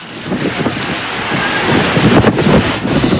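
Storm-driven waves from Super Typhoon Haiyan surge and crash along a shoreline in Albay under howling typhoon wind, a loud, continuous roar with wind buffeting the microphone.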